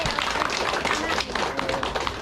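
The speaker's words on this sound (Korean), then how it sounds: "우리이장님께박수한번쳐줍시다" A group of villagers gives a short burst of clapping for their village head, with quick, fairly even claps close by and voices mixed in.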